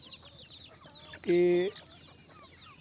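A free-range country hen gives a single loud, close cluck partway through, surrounded by quieter background chatter and faint bird sounds, with a word of speech nearby.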